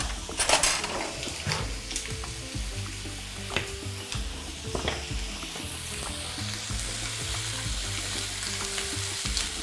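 Chicken wings fry in butter in a pan, a steady bright sizzle throughout, with a few utensil clinks and scrapes against the pan near the start.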